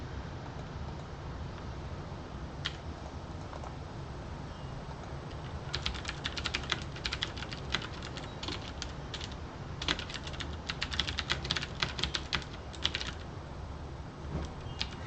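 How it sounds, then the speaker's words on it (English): Typing on a computer keyboard while naming a file, with quiet sparse keystrokes at first, then bursts of rapid clicking clatter near the microphone, no voices. "Like while I'm typing this,"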